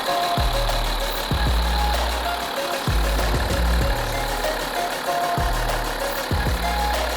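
The diesel engine of a BMW X5 (G05) xDrive30d SUV idles steadily up close, a low rumbling hum with a regular knocking pulse and no voices over it.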